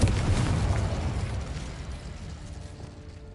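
An Incendio fire spell burst in Hogwarts Legacy, a dense rumbling whoosh of flame that starts strong and gradually dies away over about three seconds, with no voices.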